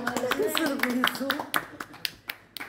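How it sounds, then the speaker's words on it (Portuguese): Scattered hand claps ring out at a family birthday celebration for Adriana in Trofa, following a stretch of voices singing; the claps are sharp, sparse and close, with a few people joining in. "uma salva de palmas"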